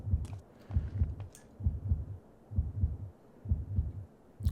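A pounding heartbeat effect from the video game Manhunt thumps in steady lub-dub pairs, five beats in a row, low and close as if inside the ears, with no talk over it.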